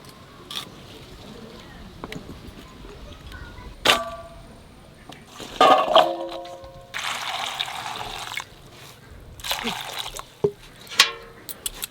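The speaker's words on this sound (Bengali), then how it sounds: "লতিটা ভালো করে ধুয়ে নেব।" Taro stolons (kochur loti) being washed in water, with splashing, pouring and clanking of a pot or bowl in bursts, a loud rush of running water mid-way, and brief spoken words in between.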